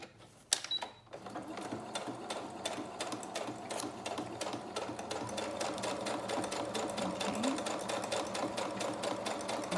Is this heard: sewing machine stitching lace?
yes